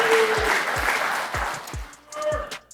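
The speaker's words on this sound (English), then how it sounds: "So round of applause for Gradlin Franks." A short burst of clapping from a modest crowd at a construction safety day event, with a few distinct heavy claps and brief voices mixed in.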